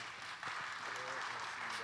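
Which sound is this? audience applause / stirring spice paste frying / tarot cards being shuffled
audience applause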